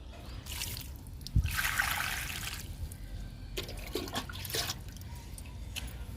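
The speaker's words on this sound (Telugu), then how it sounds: "ఇప్పుడు వాటర్ ఇచ్చేద్దాము." Water trickling and splashing onto freshly planted rhoeo cuttings in soil, a steady pour that begins with a faint knock and runs for several seconds, fairly close and unaccompanied by talk.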